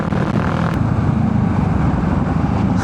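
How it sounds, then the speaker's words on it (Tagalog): Motorcycle exhaust droning steadily while riding the road from Manila toward Batangas and Tagaytay, a loud continuous low engine rumble mixed with wind, with no speech. "Tsaka rinig na rinig ko yung tambotso ng motor ko."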